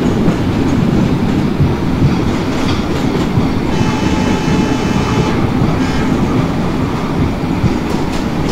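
Locomotive running on an Indian route in the MSTS Open Rails train simulator game, a loud steady rumble with rhythmic clickety-clack of wheels on rail joints throughout, no talking.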